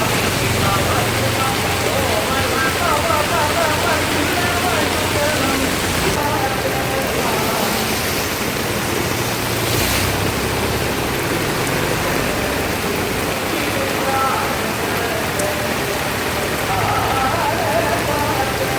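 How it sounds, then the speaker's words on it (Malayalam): Heavy rain pours steadily over a temple pond on an evening, a dense, constant hiss of drops on water and surfaces that stays loud and even throughout, with no voices. "നല്ല സൂപ്പർ മഴയാ."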